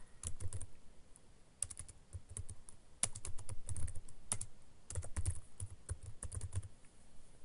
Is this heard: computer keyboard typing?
yes